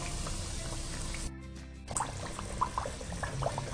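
Vegetable kachori deep-frying in hot oil, a steady close sizzle and bubbling hiss with a brief dip partway through, then scattered small pops and crackles.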